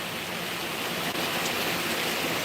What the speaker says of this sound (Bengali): বৃষ্টি তো কমেরও না।